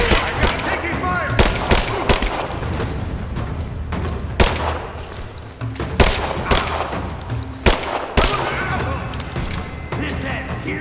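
Repeated gunshots and bursts of suppressing fire in a Rise of the Tomb Raider firefight in Syria, loud and close, cracking in irregular volleys throughout with voices shouting in the background.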